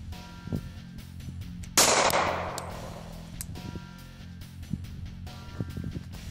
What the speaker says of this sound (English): Now we're going to move to the 40 Smith & Wesson. I'm going to see if it can penetrate the level 3 vest.